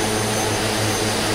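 Steady, loud drone of a de Havilland Twin Otter's propeller engines during a climb at about 130 knots, heard from inside the aircraft as a continuous roar with a low pulsing throb.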